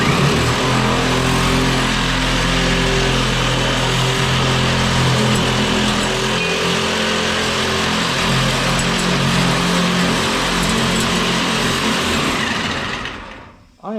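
A power saw blade bites into a front valance panel for a 1966 Mustang, a loud, continuous high-pitched grinding whine that runs steadily for about thirteen seconds before winding down.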